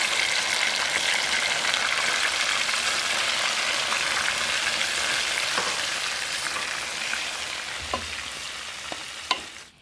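Blended ingredients frying in hot oil with chicken, part of a cauliflower fried rice dish, give a steady, dense sizzle throughout that fades a little toward the end, with a few soft clinks near the close.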